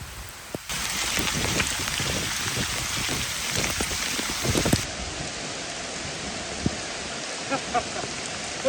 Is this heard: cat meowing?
no